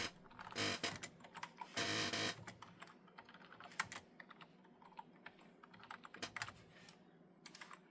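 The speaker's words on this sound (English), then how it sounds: "I'm going to type this one-handed." Rapid one-handed typing on a computer keyboard, with dense clusters of close, crisp key clicks and a few louder bursts, in an irregular rhythm. No voices.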